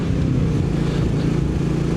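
A Royal Enfield Bullet motorcycle with its stock exhaust idles and revs in a steady, deep, loud thumping drone, close and continuous.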